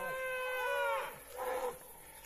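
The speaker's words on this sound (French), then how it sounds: "Je sais pas ce qu'elles ont les vaches, mais elles s'expriment là." Cows low out in a pasture near a small stream, two drawn-out moos in quick succession, the first longer and tonal and the second shorter, with light outdoor ambience behind them.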